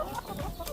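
Hens on a small egg farm cluck softly and continuously in a dense flock murmur, with a low hum of ambient barn noise beneath.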